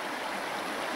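River water rushes steadily over a foamy slope in the taiga, a close, dense, continuous roar of flowing water with no voices.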